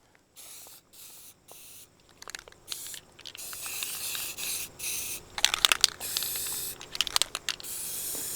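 Spray paint can hissing onto a welded bench vise, in several short separate bursts followed by longer, louder sprays with a few faint clicks, fairly close and with no talking.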